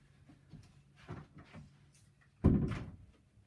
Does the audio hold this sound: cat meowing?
no